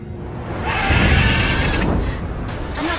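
A horse in a video game, a mare, neighs loudly in a long, shrill whinny over a low rumbling background, with a short trailing call at the end.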